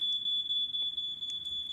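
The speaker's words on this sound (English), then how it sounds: "This is the sound of a smoke alarm." A smoke alarm sounds a steady, piercing high beep that holds without a break, played back as a demonstration over faint room noise, with no voices.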